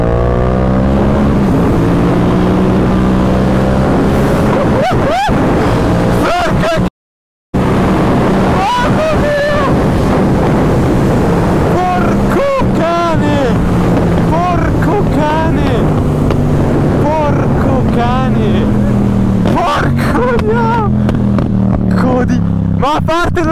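A Yamaha MT-07 motorcycle rides at speed near 100 km/h with a loud, close engine drone and exhaust crackles, heavy wind buffeting the microphone, and a rider talking over it throughout.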